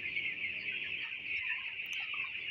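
Fifteen-day-old broiler chicks in a poultry shed making a constant high chorus of cheeping and clucking, dense and steady throughout with no voices.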